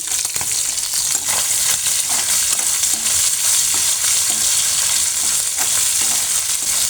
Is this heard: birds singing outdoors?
no